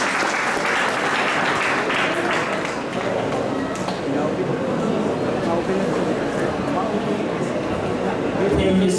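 Sustained audience applause fills a conference hall on the urban redevelopment of Tacloban City, dense steady clapping lasting throughout and swelling slightly at the end.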